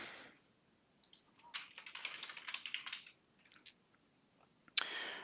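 Fingers type on a computer keyboard in quick, quiet bursts of clicking keystrokes with short pauses between them, close by and with no voices.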